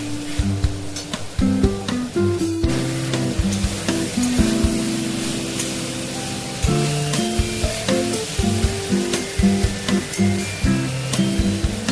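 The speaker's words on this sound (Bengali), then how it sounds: "মধ্যেই আমি ভেজে রাখা আলু পটলটা দিয়ে দেবো।" Fried potato and parwal pieces tipped into a hot pan and sizzling loudly, a dense continuous hiss with occasional stirring scrapes. A tonal hum runs underneath. No speech.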